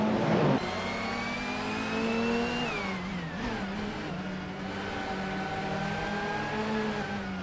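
A 1996 Vauxhall Vectra engine in a racing video game revs steadily and close, its pitch climbing then dropping as the car shifts and holds speed, with no voices.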